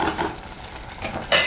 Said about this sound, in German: Rühre das einmal durch bei der Hackfleischmasse, sodass der Zimt auch komplett untergehoben ist